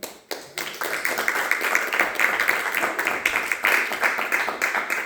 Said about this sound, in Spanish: Un aplauso a Cristo, hermanos